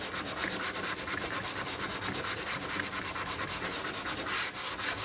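Hand sanding with 180-grit paper on a repaired Mk2 Escort door sill, steady rhythmic back-and-forth rasping strokes, close and continuous.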